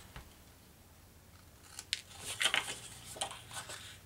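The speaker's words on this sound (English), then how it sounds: "Angle cut my corners." Scissors snip the corners of paper for a handmade mini album: a couple of crisp, close cuts followed by a busier cluster of quick snips, with no talking.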